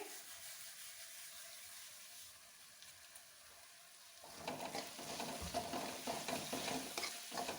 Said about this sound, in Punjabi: ਮਿਕਸ ਕਰ ਲਾਂਗੇ ਸਾਰੇ ਮਸਾਲੇ ਤੇ ਟਮਾਟਰ ਵਧੀਆ ਤਰ੍ਹਾਂ ਪੱਕ ਚੁੱਕੇ ਆ